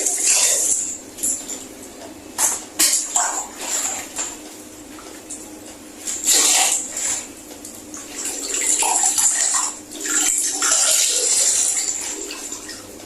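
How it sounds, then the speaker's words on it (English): Tap water runs and splashes into a basin while a wig is rinsed, with uneven bursts of pouring and sloshing that swell and fade, close by and without speech. "The water is too hot, so I'm going to add a little ordinary water to it"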